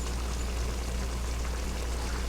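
Water pours steadily into a dog's bowl in a home kitchen, a continuous rushing splash that fills the whole moment at a moderate level, with no voices.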